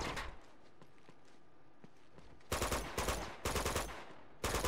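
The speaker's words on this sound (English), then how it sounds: "I don't know what that man's shooting, but I'd have had enough of it." Gunfire in Uncharted 2 at a monastery: faint scattered shots early, then four loud bursts of rapid automatic fire in quick succession near the end.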